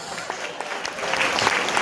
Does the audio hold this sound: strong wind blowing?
no